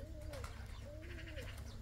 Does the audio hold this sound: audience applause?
no